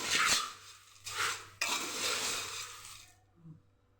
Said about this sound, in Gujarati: એને સરસ મિક્સ કરી દઈશું